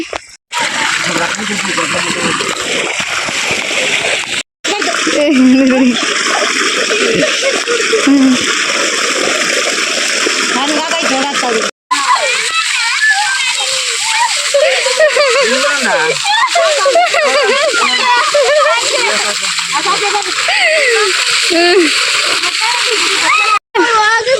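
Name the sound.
water flowing and splashing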